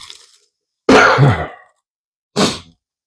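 A throat clearing, a loud rough burst followed after a pause by a shorter second clearing, close up with no talking.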